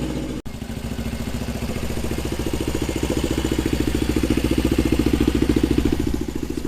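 A Suzuki GS450 motorcycle engine idles while warming up, a close, loud, even pulsing chug with a regular rhythm throughout, opening with a brief dropout.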